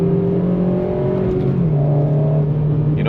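A Honda Civic FG2 engine revs hard as the car throttles out of a corner, a steady loud mechanical drone with rising and shifting pitch throughout, heard close with no voices.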